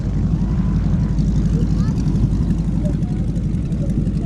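Propeller aircraft carrying wing walkers fly over an airshow at Little Gransden, a loud steady engine drone with a commentator's voice talking over it.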